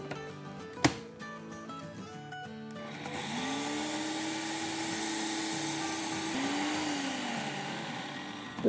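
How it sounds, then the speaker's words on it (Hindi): An electric mixer grinder whirs steadily as it grinds roasted spices for sambar, starting after a short clatter and running continuously at moderate volume with a slight pitch dip midway. "तो चलिए इसको हम डालते हैं और पीसते हैं।"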